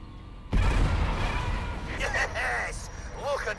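Explosions go off in the stealth canoe game Phantom: Covert Ops. One sudden heavy boom is followed by a long rumbling roar, and someone talks excitedly over it.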